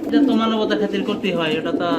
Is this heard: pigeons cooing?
yes